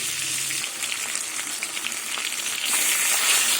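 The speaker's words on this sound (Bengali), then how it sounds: "এবার মাছের মাথাগুলো ভেজে নেব" Fish heads fry in oil with a dense, bright, steady sizzle that holds close and fairly loud for the whole stretch, with no one talking.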